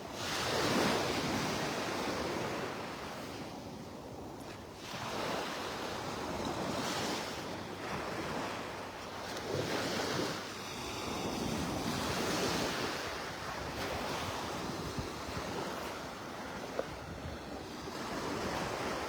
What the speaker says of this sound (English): I'm on Vanderbilt Beach, just north of La Playa, slowly walking north up towards Delnor Wiggins Pass State Park